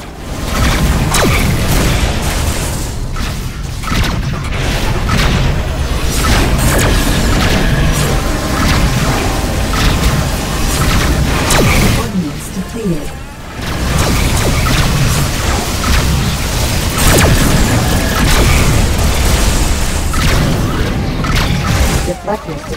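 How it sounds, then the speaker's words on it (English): Missile impacts and explosions from the space combat game Rebel Galaxy form a dense, continuous barrage of heavy booms and crashing blasts, loud and sustained, with a brief lull midway and voices talking over the din. "Missiles inbound."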